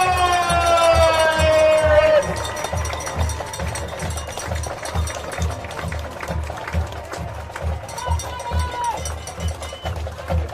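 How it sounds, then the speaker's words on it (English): A high school football crowd in the stands stomps in a steady rhythmic beat, with loud thuds repeating about twice per second. A rising and falling siren-like wail sounds over it at the start, and crowd noise continues throughout. "put your hands together, stomp your feet, and make some noise"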